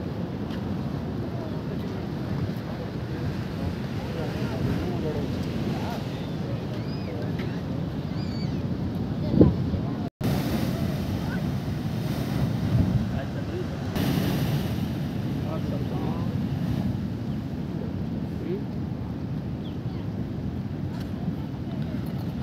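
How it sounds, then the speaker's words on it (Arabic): Strong sea waves and currents at Mughsail beach in Salalah, Oman, make a constant heavy roar mixed with wind buffeting, while someone talks over it. "تيارات البحر القوية والامواج تجي تصعد باع"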